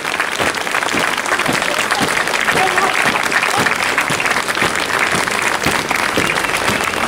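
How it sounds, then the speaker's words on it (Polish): A large outdoor audience at an Independence Day military drill display in Stargard Szczeciński claps steadily and loudly, the applause sustained throughout with crowd murmur mixed in. "Szanowni Państwo, podziękujemy żołnierzom oklaskami za zaangażowanie, kunszt"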